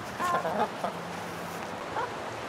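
A few soft hen clucks and short calls from a backyard flock at feeding time, nearby and brief, over faint background noise.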